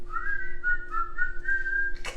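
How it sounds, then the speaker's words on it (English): A person whistles a short, wavering tune while baking Egyptian baklava, clear and close, with a brief rustle at the very end. "Whistle while we bake."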